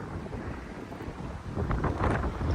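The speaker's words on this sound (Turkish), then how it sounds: "Zaten rüzgar esiyor." Steady wind rushes and buffets the microphone on the Kyrgyz steppe, growing louder and gustier toward the end, with no voices.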